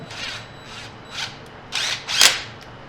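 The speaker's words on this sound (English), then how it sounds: "or you can be lazy like me and use an impact" Impact wrench working a 12 millimeter bolt during an aftermarket air filter and crankcase vent hose job: four short buzzing bursts, the last two louder and longer, close by with no talking.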